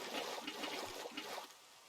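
Watering can pouring water in a Minecraft modpack game, a soft, steady trickling splash with faint pulses, quiet and alone, tapering off near the end.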